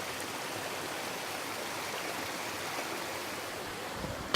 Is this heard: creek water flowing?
yes